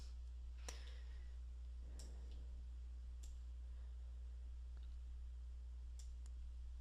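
A computer mouse clicks several times, sharp faint isolated taps spaced a second or so apart over a steady low hum.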